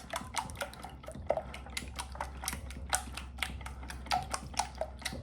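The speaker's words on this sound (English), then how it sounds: "So slightly beat your eggs." Eggs being lightly beaten in a bowl for an egg and cheese breakfast casserole, a quick run of sharp, regular clicks and taps from the whisk or fork against the bowl, close and clear with no voices.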